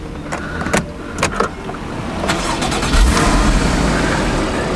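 Porsche Cayman engine starting from inside the car: a few mechanical clicks, then the engine catches and settles into a steady low idle, close and fairly loud.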